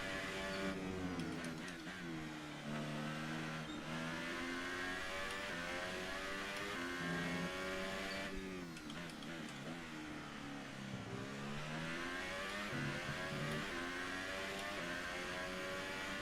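Open-wheel F1 race car engine from the F1 2018 game at the Spanish Grand Prix, a loud sustained high-pitched whine rising and falling with gear shifts and throttle, continuous throughout with a voice faintly present underneath.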